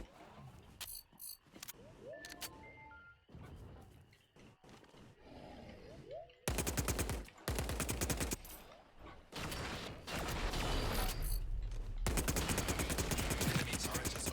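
Automatic turret gunfire in a video game, rapid bursts of shots punctuated by mechanical and roaring noise, growing louder and denser in the second half with dense continuous firing.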